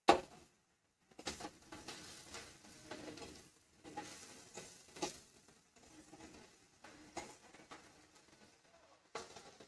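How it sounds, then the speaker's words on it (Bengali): A paste of ginger, garlic and green chili fries in a pan, giving a soft, steady sizzle. It is broken by repeated scraping bursts as it is stirred, heard up close at low volume. "আদা রসুন কাঁচা লঙ্কার পেস্টটাও একটু ভালোভাবে ভেজে নেব।"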